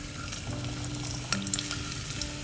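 Thick halved garlic cloves fry in hot oil ahead of mutton kheema, a continuous close sizzle with light crackles and a few sharper pops and stirring clicks.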